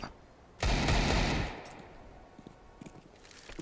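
Gunfire crackles in a Counter-Strike match: a loud, dense burst of shots lasts about a second, then fades into quieter scattered pops and clicks nearby.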